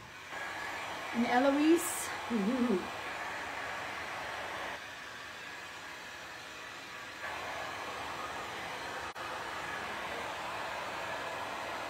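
A hair dryer blows steadily on a painting of an owl, a constant close whooshing hiss running throughout, with a brief voice speaking over it near the start.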